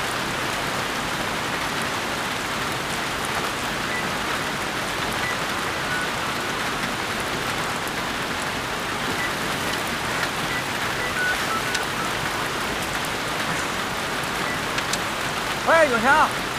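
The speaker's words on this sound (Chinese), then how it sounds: "雨下太大了，有冰雹" Heavy rain with hail in a village, a dense continuous hiss of rain on surfaces held at a steady level throughout, with a brief ringing tone near the end.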